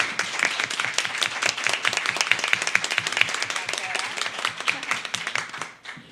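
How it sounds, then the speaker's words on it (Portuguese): An audience claps at the close of a session on childhood in the Federal District, dense rapid clapping for about six seconds that fades out at the end. "queria uma salva de palmas"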